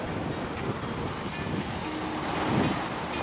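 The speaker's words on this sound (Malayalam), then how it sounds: "ഇപ്പം വെള്ളം ഇങ്ങനെ അടിച്ചു കയറുക" Sea waves surge up the sand at Gotheeswaram Beach in Kozhikode at high tide, a continuous loud wash of surf with a steady roar and no talking.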